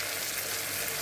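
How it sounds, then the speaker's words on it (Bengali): Spices fry in hot oil in a pan for a magur fish curry, a brief, quiet, steady sizzle heard alone. "মশলা ভালো করে ভাজা হয়"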